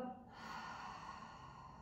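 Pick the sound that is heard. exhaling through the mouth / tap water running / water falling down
exhaling through the mouth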